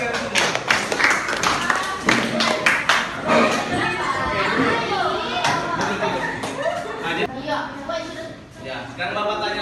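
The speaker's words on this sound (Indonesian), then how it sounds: "Duduk tepuk tangan buat kalian semua." A seated class of students claps together, a burst of quick, close, loud clapping that thins out as chatter and voices take over.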